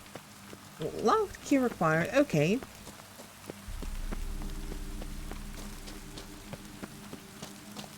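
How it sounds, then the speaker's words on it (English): Steady rain patters inside a cave in The Witcher 3, a soft even hiss that starts after a brief spoken line and continues alone. "Oh, it's raining inside the cave."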